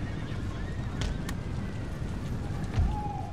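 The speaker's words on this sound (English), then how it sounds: "These are really bad militia cav, but we outnumber them by a lot." Cavalry horses gallop in an Empire: Total War battle, a dense low drumming of hooves with occasional whinnies above it, close and continuous across a battlefield din.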